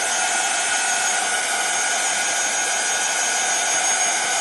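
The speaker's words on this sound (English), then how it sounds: "I'm just going to bring in my heat tool and give this a quick blast so I can dry that distressed oxide off." A craft heat tool blowing hot air to dry distress oxide ink on a stenciled surface, a loud steady whirring hiss held evenly throughout.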